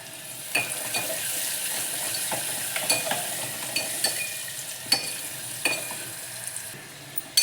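Half an onion frying in a pan with garlic and curry leaves for a black-eyed pea bassaru, giving a moderate sizzle broken by light clicks and scrapes of a ladle against the metal.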